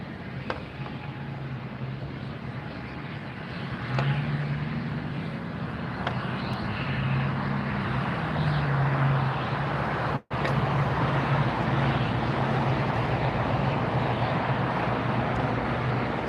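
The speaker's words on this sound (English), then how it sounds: "So our arrival, just touching down, is from Houston, flight 1949 on United, 737-900ER" A United Boeing 737-900ER arriving from Houston touches down at LAX, its steady broadband engine roar holding at a constant level throughout, with a brief dropout partway through.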